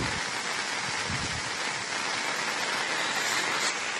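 Floodwater flowing across Napol road by the submerged Triveni Sangama at Bhagamandala, Madikeri, after two days of heavy rain: a steady, even rushing hiss throughout, moderately faint, with no voices.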